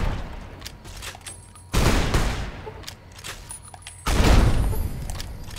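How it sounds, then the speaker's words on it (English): Anti-materiel rifle in Fallout: New Vegas firing two heavy shots a couple of seconds apart, each a loud booming blast with a long rumbling tail over quieter game ambience. "I love the anti-material rifle. It is my favorite weapon of all."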